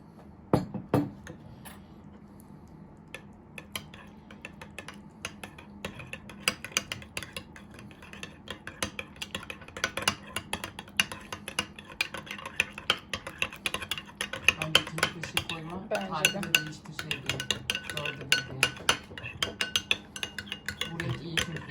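A spoon stirs mayonnaise and soy sauce in a bowl for Japanese mayo sauce in a home kitchen, giving quiet, repeated scraping clinks against the dish that grow busier toward the end, with faint talk in the background.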